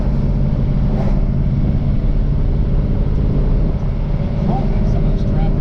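A 1969 Ford Torino Cobra with a Q-code 428 Cobra Jet V8 and mildly shift-kitted transmission drives along, its loud, steady low rumble filling the cabin throughout with only slight changes in pitch.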